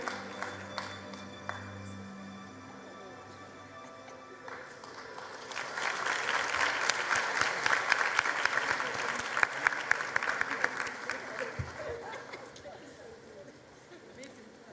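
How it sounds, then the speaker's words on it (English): Applause at a matric results announcement for a top public-school learner swells from a quiet start into a dense round of clapping, with talk over it at the start, then fades. "Can we please give her a round of applause?"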